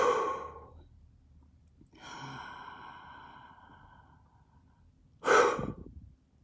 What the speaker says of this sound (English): Take the biggest breath you can and blow out the candles.